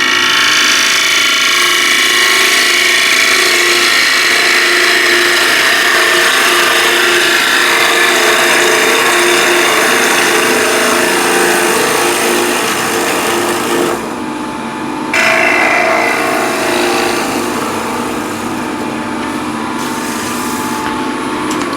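A wooden tenon is worked with a power tool in a steady, loud, continuous buzzing grind that runs close and unbroken, briefly cutting out and restarting near the end.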